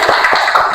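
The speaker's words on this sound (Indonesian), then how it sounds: "tepuk tangan buat kita semua" A class claps hands together in quick, dense rhythmic pats, close and loud, filling the short moment without pause.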